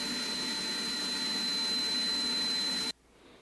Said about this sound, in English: When the vac is outside of the cabinet, it's about 91 decibels.